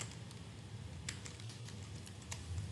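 Keystrokes on a computer keyboard while entering an Excel formula, a handful of quiet, scattered clicks over a low steady room hum.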